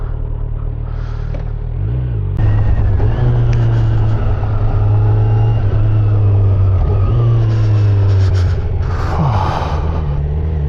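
A 2025 Kawasaki Z900 motorcycle engine runs steadily while riding, a loud continuous drone with a low hum that holds its pitch, rising briefly at the start before settling into a smooth cruise, with wind noise over the top.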